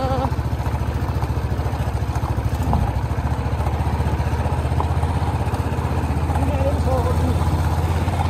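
A motorcycle rides along a rough, bumpy village road, its engine droning steadily and close throughout with rattling clatter from the uneven surface, while voices come and go over it.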